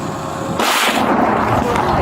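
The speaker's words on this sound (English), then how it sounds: "The explosion from his truck sent dust and debris flying across the area" A truck explodes: a sudden loud blast bursts in after a steady background hum, followed by a sustained rumbling roar that lingers at high volume.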